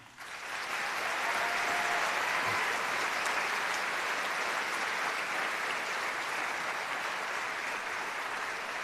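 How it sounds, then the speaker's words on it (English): An audience at a band concert finale applauds in a dense, sustained wash of clapping that starts abruptly and holds steady for several seconds. "Please give them a hand."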